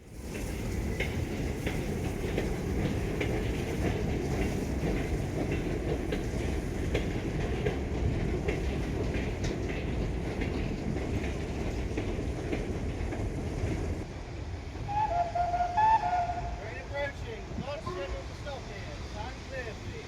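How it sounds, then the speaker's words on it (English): A heavy steam freight train, an LMS 8F locomotive hauling mixed wagons, rumbles past with rhythmic wheel clatter, loud and close, before the noise drops away and wagons trail off. "8F number 48305 was heading the mixed freight consist on an up train."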